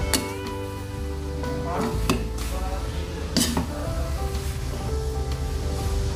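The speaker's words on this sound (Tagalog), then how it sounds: "Ayan, halo-halo lang natin ito." Pancit canton noodles with vegetables are tossed and stirred in a pan, giving steady scraping and clinking of utensil on metal over a low sizzle, with a few sharper knocks.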